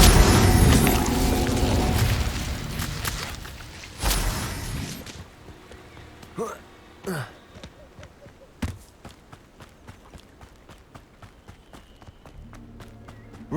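Incendio fire spell cast in Hogwarts Legacy: a loud, dense roaring burst for several seconds, then quieter scattered clicks, thuds and short sharp hits from the game.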